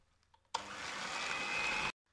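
An electric mixer whirs steadily through carrot cake batter made with wholemeal flour, eggs and walnuts, starting abruptly and running loud and even for just over a second before cutting off.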